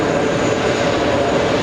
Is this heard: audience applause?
no